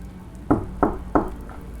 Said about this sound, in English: As soon as it latches, the knocking begins again.